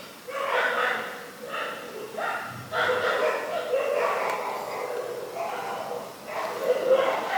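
Dogs bark repeatedly at a moderate distance, a steady series of yaps and woofs over a noisy background, with a voice talking among them.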